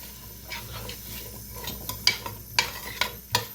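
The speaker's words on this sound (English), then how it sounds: "Now you're going to stir this and cook this till the veggies are completely tender." A spoon stirs chopped vegetables cooking in a pan for Southern-style stuffing, soft scraping and light clinks against the pan over a faint sizzle, with several distinct knocks toward the end.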